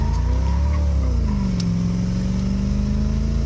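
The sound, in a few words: small block Chevy car accelerating during 0 to 60 test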